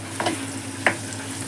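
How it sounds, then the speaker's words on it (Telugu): 300 g of bitter gourd frying in a little oil in a pan, with two brief stirring scrapes over a soft, steady sizzle, close and fairly quiet. "ఆ తక్కువ నూనెలోనే మనకు కాకరకాయ మంచిగా ఫ్రై చేసుకోవాలి"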